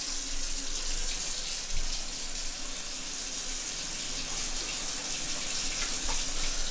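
A steady hiss of tap water running and splashing into a packet, continuous and close, with no talking.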